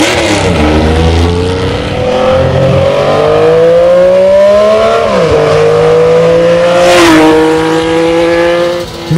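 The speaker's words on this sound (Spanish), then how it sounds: "Hoy la Laverda V6 es una de las motos más valiosas y raras del planeta." Rare Laverda V6 motorcycle engine revving hard and close, its pitch climbing and dropping through repeated throttle sweeps, loud and alone with no voices.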